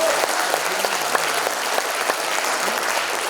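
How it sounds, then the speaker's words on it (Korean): Steady applause from an audience at a book launch event, dense and continuous clapping that fills the whole stretch at an even, fairly loud level without pauses. "저희 집사람한테 저 대신에 박수 좀 쳐주세요."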